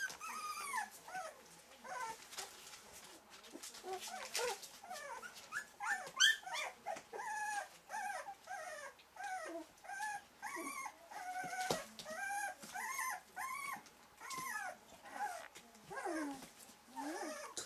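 Four-week-old puppies whimpering and squealing in a steady run of high, rising cries, close and fairly quiet, with no talk over them.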